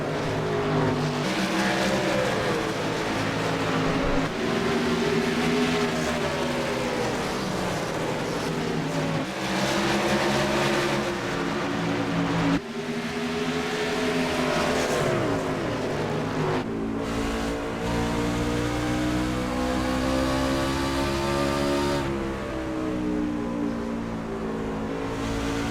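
Race trucks painted in pink for Breast Cancer Awareness Month roar around the track in iRacing, a loud continuous engine drone with rising and falling pitch as several trucks rev and shift, with no talk over it.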